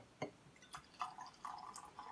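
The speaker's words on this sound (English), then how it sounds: "Give it a little pour, guys." Golden State California corn bourbon whiskey is poured into a glass, giving a quiet burst of soft splashes and drips that settles into a brief, gentle trickle.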